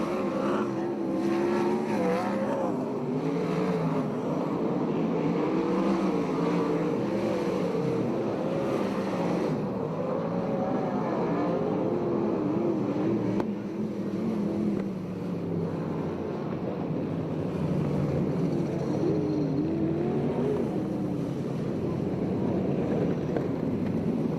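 Sprint cars race around a USAC/CRA dirt oval at the Firecracker 30, their engines roaring together as a loud, continuous, rising and falling drone from start to finish, with no speech.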